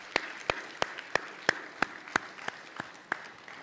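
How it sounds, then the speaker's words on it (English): An audience at a Kappa League Guide Right centennial debate championship and awards event claps in steady, rhythmic unison, about a dozen even beats at a moderate distance over a low room murmur. "Stand up and give Brother Wilson a round of applause,"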